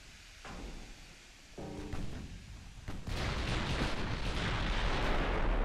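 Naval gunfire in the battleship game Ultimate Admiral Dreadnoughts: a few heavy booming shots and impacts, then a dense, sustained rumble of explosions building to a loud, continuous barrage.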